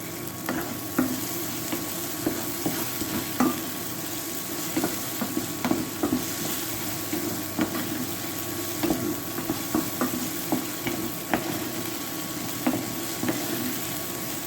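Pasta bake with Heinz barbecue beans sizzling steadily in a pan, a constant loud frying hiss with regular soft scrapes and taps of stirring throughout.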